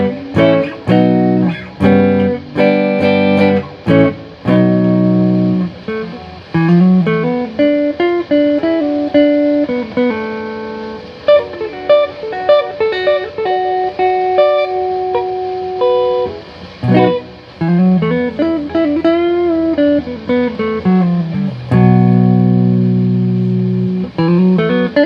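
A 2025 Gibson Les Paul Special electric guitar in the middle pickup position, tone rolled to 8 and volume near 7.5, plays loud sustained chords and melodic runs with ringing harmonics, continuous and up close.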